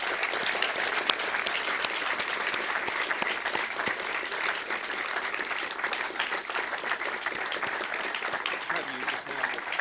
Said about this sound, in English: let's have a round of applause for the people of Burma and for their permanent representative